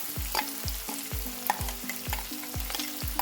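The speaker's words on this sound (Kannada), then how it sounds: "ಈಗ ರುಬ್ಬಿರೋಂತಹ ಮಿಶ್ರಣನ ಹಾಕ್ಕೊಂಡು ಚೆನ್ನಾಗಿ ಫ್ರೈ ಮಾಡಬೇಕಾಗತ್ತೆ" Ground spice paste fries over a low flame for capsicum chitranna, with a soft sizzle under regular, rhythmic spatula scrapes against the pan, roughly two strokes a second, close up and without speech.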